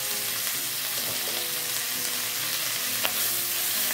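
Spices sautéing with melinjo leaves in a pan, a continuous close sizzle and hiss with occasional light stirring scrapes, even and steady throughout, no voices.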